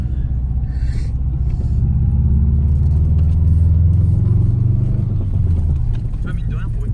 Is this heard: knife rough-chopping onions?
no